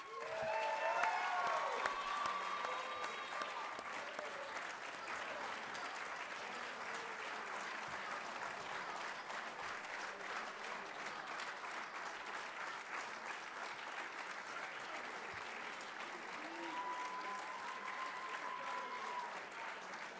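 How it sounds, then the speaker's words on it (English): A long, sustained round of audience applause for seven inductees at a college athletics Hall of Fame ceremony, even and unbroken, with scattered faint whoops and tonal squeaks over the clapping. "Please give these 7 amazing inductees another round of applause."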